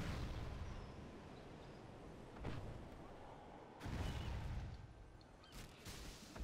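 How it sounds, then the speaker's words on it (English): Inferno cannons in the Command & Conquer Generals Pro:Gen mod fire in distant, rumbling bursts, with several heavy muffled booms and explosions rolling over continuous low battle noise. "Inferno cannons loaded."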